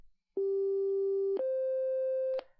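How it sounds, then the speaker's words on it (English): Two pure sine-wave tones from an ear-training exercise play one after the other, each held about a second, the second slightly higher to form an ascending interval, clean and steady with nothing else heard. "Now it plays a perfect sine wave."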